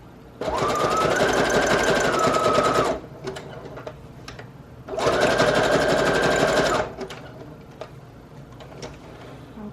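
Two loud, close bursts of a sewing machine running a zigzag stitch on fabric over a journal cover, each lasting a few seconds with a rising whine, separated by quiet handling clicks.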